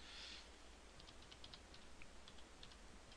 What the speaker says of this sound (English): I'm just going to type in the word politics here